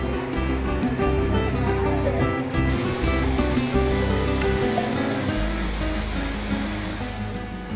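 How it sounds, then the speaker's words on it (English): Cimarron waterfall in a canyon gives a constant broadband rush of falling water, loud and steady throughout, with music-like tonal layers over it. "the objective is to come upon the Cimarron waterfall in an enchanting canyon"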